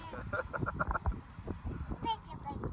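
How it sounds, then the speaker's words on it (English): Geese at a beach honk in a loose series of nasal calls, fairly close, mixed in with a person talking over them. "Let's go say hi to the geese."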